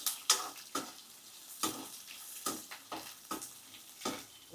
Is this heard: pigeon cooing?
no